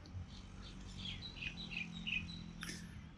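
A bird chirps from a tree at Ayutthaya, Thailand: a handful of short, faint high tweets in an irregular cluster, followed by one sharper call, over a low outdoor hum.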